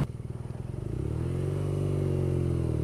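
A 2014 BMW R nineT with its Boxer Twin engine, heard while riding: a loping, pulsing idle-like throb builds into a steady, loud engine drone as the bike accelerates, close and continuous with no talk.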